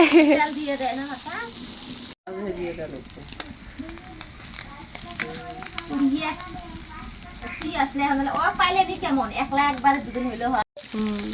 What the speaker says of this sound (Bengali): সবগুলো মাছ ভাজা হয়ে গেছে।